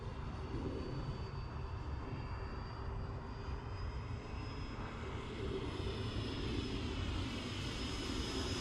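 A Pavania Tornado 70mm electric ducted-fan model jet in flight on its maiden outing, a continuous whooshing whine overhead that holds steady and slowly rises in pitch, fairly close and without speech.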